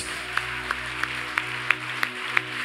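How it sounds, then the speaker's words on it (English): Rhythmic hand clapping from a church congregation, seven sharp evenly spaced claps about a third of a second apart over a low steady hum, no voices. "If I tell you clap your hands."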